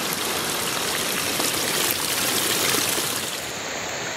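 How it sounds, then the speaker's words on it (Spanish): A mountain river near a campsite murmurs steadily close by, a dense unbroken rush of flowing water with no voices. "estoy bien cerca del río que hace ese murmullo de fondo"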